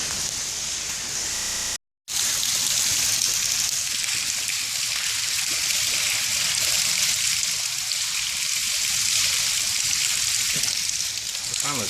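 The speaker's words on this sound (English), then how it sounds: "it's a pipe with water leaking down" Water leaking down from a pipe in an underground creek, a loud, continuous hiss and splatter that fills the space, broken only by a brief dropout near the start.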